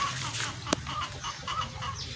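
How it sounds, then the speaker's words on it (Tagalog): Chickens on a farm make soft, fairly distant clucks and short calls over a low background hum, with one sharp click partway through. "Tandang po ba yun yung parang pansabong?"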